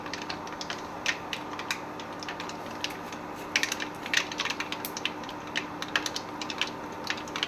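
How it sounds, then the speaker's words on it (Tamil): Mustard seeds sizzle and splutter in hot oil as a mango pickle is being made. Small, sharp pops crackle irregularly over a soft, steady frying hiss, heard fairly faintly and close up. "கடுகு நல்லா பொரியட்டும் நல்லா கடுகு பொறிஞ்சிடணும்"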